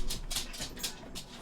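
A dog in a room gives several short whimpering whines at irregular intervals, faint to moderate and close by, with no one speaking.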